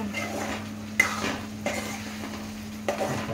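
Mutton keema frying in a pan while being stirred, a soft steady sizzle under a low kitchen hum, with a few light scrapes and clinks of the spoon against the pan.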